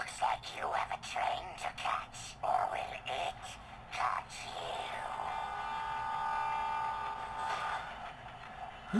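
A train in the video game Spider-Man: Shattered Dimensions, on a Vulture level, draws near, a steady humming rumble that swells in the second half of the clip after a stretch of talk over game sounds.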